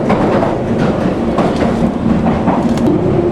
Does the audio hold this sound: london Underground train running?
yes